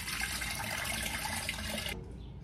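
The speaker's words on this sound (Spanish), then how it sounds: "La vamos a pasar por el colador." Hibiscus water for agua fresca de Jamaica streams through a strainer, a steady close rushing pour that cuts off near the end, leaving a quieter trickle.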